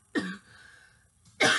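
Two sharp, dry coughs, close and fairly loud, separated by a short raspy breath.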